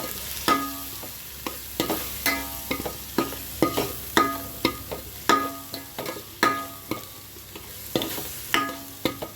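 Salt, chili powder and garam masala are stirred into a sizzling curry in a pan, with regular scraping strokes of a spoon about once a second over a constant frying sizzle, close and fairly loud, with no talk.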